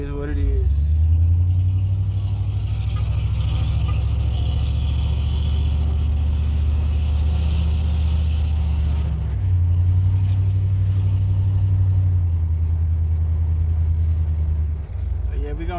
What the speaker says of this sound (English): So yeah, we're gonna drive around the neighborhood.